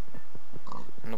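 A pig in the Minecraft video game gives a few short grunting oinks in quick succession, close and clear.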